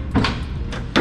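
A GTR-style door handle on a 1970 Chevelle clicks and the door unlatches, two short close mechanical clunks about a second apart.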